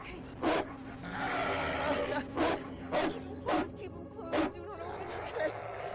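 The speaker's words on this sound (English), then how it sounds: "the demon dog strikes again" A demon dog in a Lost Tapes TV episode barks in about six loud, close, evenly spaced bursts over a droning background.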